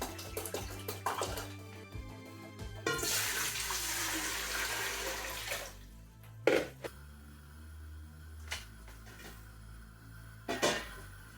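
Distilled water pours into a brewing vessel for a raspberry wheat beer, a steady rushing splash for a few seconds, then quieter drips, metallic clinks and handling noises nearby.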